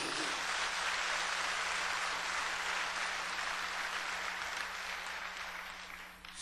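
A church congregation applauds together at the close of a sermon, a dense, steady wash of clapping at full volume that holds throughout and begins to thin toward the end.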